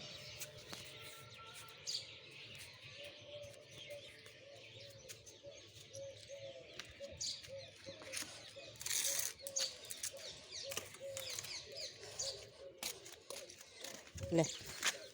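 Pigeons and other birds coo and chirp around scattered grain at a feeding spot, a repeated soft cooing under steady nearby talk, with a brief flutter near the end.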